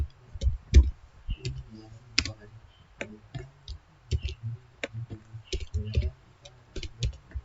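Keys tapped on a computer keyboard to enter an IP address, heard as irregular close clicks in short bursts with brief pauses, fairly quiet over a low background hum.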